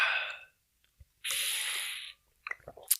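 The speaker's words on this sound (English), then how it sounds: "It's a really loud straw." Water is sipped through a loud straw close to the mic, with short airy slurping bursts, one longer steady sucking hiss in the middle, then small wet gulps and clicks.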